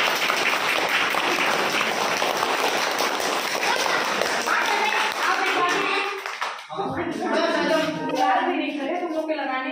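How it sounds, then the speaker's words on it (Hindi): A class of schoolchildren claps together at a birthday celebration, a burst of fast, loud, overlapping hand claps that thins out partway through as voices take over. "चलो ताली बजाओ लोगों के लिए"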